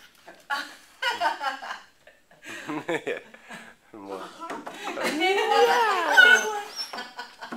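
A female puppy gives short whimpering yips in playful bursts at close range, mixed with a person's voice and brief laughter.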